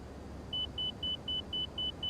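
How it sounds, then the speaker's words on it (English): A cockpit warning in an Airbus A319 in X-Plane 11 beeps seven times in a fast, even series of clear tones over a low engine rumble. "Why is this beeping? What's beeping?"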